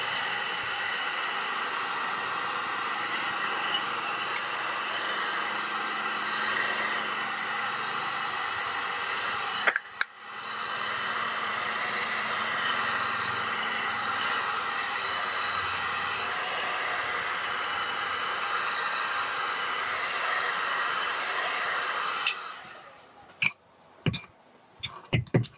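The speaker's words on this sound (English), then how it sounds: "I actually use a Black & Decker paint remover for my heat gun" A Black & Decker paint remover used as a heat gun blows steadily for over twenty seconds with a dense, hissing, fan-driven roar, cutting out briefly midway and then switching off near the end, followed by a few small clicks and handling knocks.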